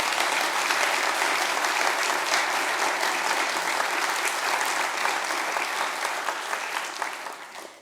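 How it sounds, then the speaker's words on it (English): A conference audience at the PyCon UK 2025 opening session applauds its sponsors, a dense, sustained wash of clapping from many hands that holds steady for several seconds before tapering off at the end. "can we have a big round of applause for all of our sponsors?"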